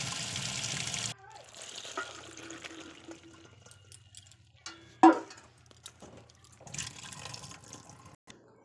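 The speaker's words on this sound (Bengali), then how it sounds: "4 দিন রোদে দিয়ে পরে তাকে ভালো করে ধুয়ে নিব।" Tap water runs over pickled jujubes that were sun-dried for four days, a brief rush at first, then quieter rinsing and handling with occasional splashes and drips.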